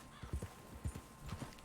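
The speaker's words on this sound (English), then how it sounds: "Yeah. Stupid horses." Horse hooves clip-clop in uneven, soft, fairly distant steps, with a faint whinny, in the Western video game Red Dead Redemption 2.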